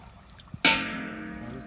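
A whole chicken carcass, feet included, plunged into a pot of scalding water at 140 to 145 degrees for plucking gives one sudden near splash, then a washing, bubbling churn that slowly settles, with no talk.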